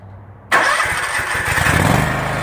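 A Scag mower engine cranks and catches with the choke left in, a quiet lead-in giving way to a sudden loud start that settles into a rough, rapidly pulsing idle close by, with no talk.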